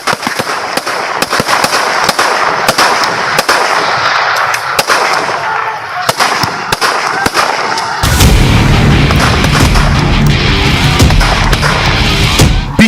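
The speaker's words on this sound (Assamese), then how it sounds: "মুকলি পথাৰত বন কৰ্মীৰ ধাৰাসাৰ গুলীবৰ্ষণ" Forest staff fire repeatedly at a wild buffalo in an open field in Biswanath, Assam, with loud sharp gunshots cracking in quick irregular bursts, followed by a denser, rougher stretch of sound.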